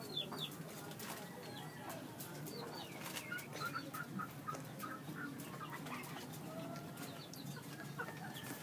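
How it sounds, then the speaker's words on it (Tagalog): Pigeons coo softly in a backyard loft while wings flutter and birds shift about, faint and close, with scattered chirps and low background noise throughout. "Ayan na po yung mga kalapati ko."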